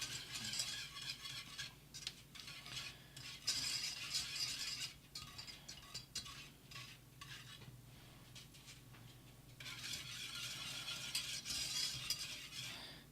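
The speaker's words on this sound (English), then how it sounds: "So our butter's almost melted. This is going to boil." Butter melting in a pan for bananas foster cookies, a soft continuous sizzle mixed with utensil scraping and stirring, close and quiet, growing a little louder toward the end, without talking.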